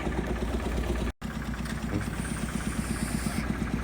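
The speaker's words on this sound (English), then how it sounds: "cement mixer just fired up" A diesel cement mixer runs at a building site for a Barbados beach house, a steady throbbing engine with a regular pulsing beat, close and constant apart from one momentary dropout.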